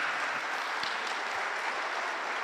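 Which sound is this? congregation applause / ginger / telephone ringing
congregation applause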